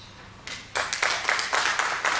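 Applause from the audience at an education summit in Pune: clapping starts softly, then swells into a steady burst of many hands together, moderately loud.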